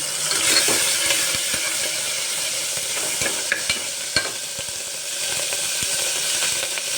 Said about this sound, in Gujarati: હવે આપણે બધું ચમચાથી આપણે મિક્સ કરી લઈશું